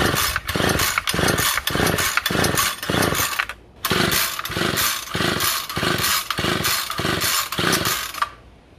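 A 2-stroke engine run on conventional oil being cranked for a compression test, giving a loud, close, rhythmic chugging pull repeated steadily for several seconds, with one brief pause before it resumes and then stops.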